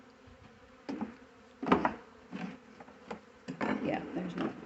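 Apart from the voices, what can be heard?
buzzing honeybees at a hive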